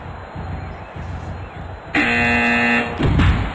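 A loud, flat buzzer sounds for about a second, then a brief second blast follows over low background noise.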